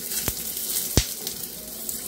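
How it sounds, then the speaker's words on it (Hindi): Cut potatoes frying in oil in a kadai over medium heat, a steady close sizzle with two sharp knocks of a utensil against the pan. "इसमें हम कटे हुए आलूओं को भी डाल के फ्राई कर लेंगे।"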